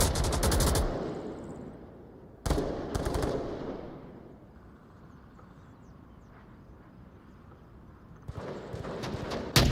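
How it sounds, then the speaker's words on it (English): Bursts of rapid gunfire in the VR shooter Onward open the clip, then fade into a quiet stretch of low rumble before another volley of shots returns near the end. "More gunshots."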